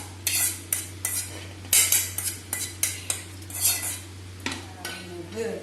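A spoon stirs boondi mixed with roasted cashews for ladoo, making repeated metallic scrapes and clinks against the vessel in an uneven rhythm over a low background hum, with no talking.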